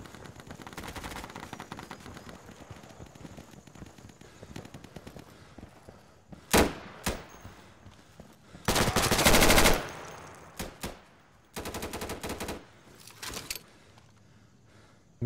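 Gunfire in the video game Insurgency: scattered distant shots early on, then loud close bursts of automatic fire and single cracks in the second half, separated by short quiet stretches.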